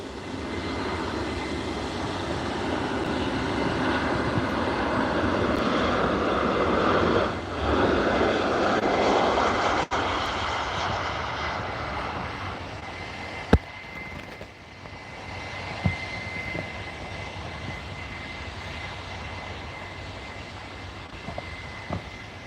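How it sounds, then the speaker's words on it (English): An Air Charter Scotland airplane lines up for departure at Liverpool Airport, its engines giving a steady, fairly distant roar that swells and then eases, with faint clicks and knocks nearby. "lining up, guys, for the departure is this Air Charter Scotland off to Chambray"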